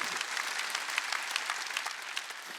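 Continuous clapping from a church congregation during a Sunday worship sermon, fairly soft and even, with occasional sharper individual claps standing out from the dense patter.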